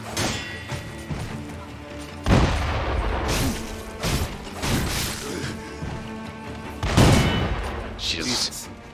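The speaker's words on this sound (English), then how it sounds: "Why did this candlestick explode?" Sekiro game combat in a gun fort: a candlestick blasts apart amid repeated sharp bursts and crashes of old guns firing, loud hits spaced a couple of seconds apart, with someone talking between them.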